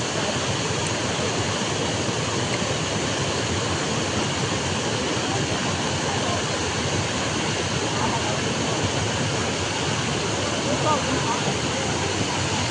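Floodwater pouring over a road at Ratanpur during the 2025 Hailakandi floods, a loud, steady broadband rush like a torrent that continues without a break throughout.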